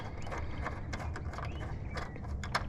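A ratchet tightens a fitting during an ethanol analyzer install on a car, producing a fast run of close mechanical clicks that keeps going the whole time over a steady background hum.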